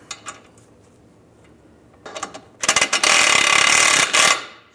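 A ratchet wrench snugs down a bolt on a 1998-2010 Volkswagen Beetle front lower ball joint, with a few faint clicks followed by a loud run of rapid ratcheting clicks close by.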